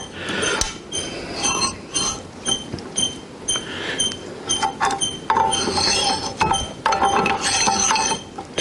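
A nut and thrust washer go into a Reed 602 bench vise, with close metallic clinks, scrapes and ratcheting clicks of steel parts sliding and seating, in irregular bursts that grow busier toward the end.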